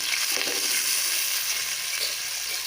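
Washed onions hit hot oil in a pan for dal mash dumplings, a loud continuous sizzle and crackle with a few stirring scrapes, close up and steady throughout.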